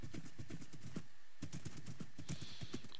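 Horse hooves in Minecraft clop in a quick, steady rhythm, close and fairly quiet, with a brief pause before the trotting resumes.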